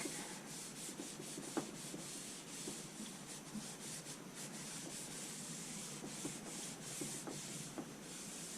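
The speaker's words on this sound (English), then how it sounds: "So before the next coat I'll sand that out real quick." Sandpaper rubs epoxy off a black walnut electric guitar neck in quick, steady back-and-forth strokes, close and fairly soft, with no talking.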